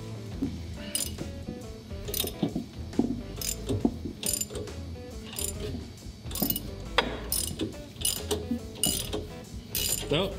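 A ball joint press forces a new ball joint straight down into the steering knuckle of a Jeep Cherokee, producing repeated sharp metallic clicks and ratcheting turns close by, with a low workshop hum and faint rustling in between.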